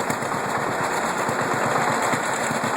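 A Massey Harris 44 gas tractor puffing steadily at work while loading corn, with a loud, rapid, even exhaust beat over dense mechanical noise.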